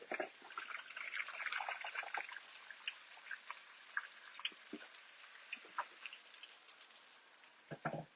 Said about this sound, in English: And now we're going to add a cup and a half of boiling water.